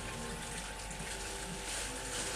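Tap water runs steadily and loudly into a sink while chunks of goulash meat are rinsed under it, a continuous dense splashing hiss with no pauses.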